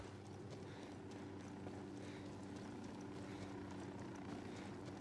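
A helicopter in the Ghost Recon Wildlands video game gives a steady low rotor thrum, faint and distant, and holds constant throughout with no talking.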